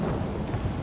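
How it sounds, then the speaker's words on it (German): A thunderstorm with heavy rain in the video game The Witcher 3: a dense, continuous low rumble of thunder blended with a wash of rain, loud and unbroken through the brief moment. "Die meiste Zeit, finde ich, in The Witcher regnet das. Oder ist Sturm"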